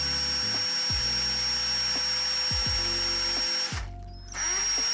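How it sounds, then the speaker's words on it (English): A small drill whirs in short bursts drilling out plastic rivets on a toy locomotive, starting and stopping several times with a high steady whine, close and fairly loud. "let's try to drill out the remains of the plastic rivets"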